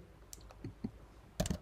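Typing on a computer keyboard while coding Python, a few faint, sparse key clicks followed by a quick closer cluster of taps at the end.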